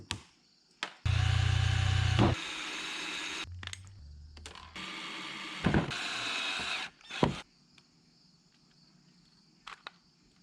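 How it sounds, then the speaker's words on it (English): A power drill whines in loud bursts of a few seconds each, drilling out rivets on a 1986 Pontiac Fiero GT headlight motor, stopping and restarting several times, with clattering and handling noises between runs. "I'm gonna have to drill every single one of these rivets out."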